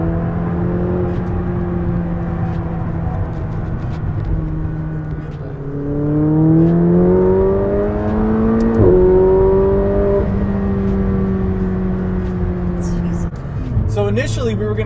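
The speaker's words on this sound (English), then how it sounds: "This is a Mclaren 570S." A McLaren 570S sports car engine hums and revs, its pitch climbing in smooth steps as it accelerates, with a steady low drone throughout.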